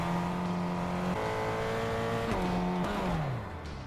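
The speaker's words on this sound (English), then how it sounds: "Hop in the car, go for a ride." A car driving in the video game Fortnite, a steady loud engine drone whose pitch steps up and down through gear changes, then eases off at the end, with no talking.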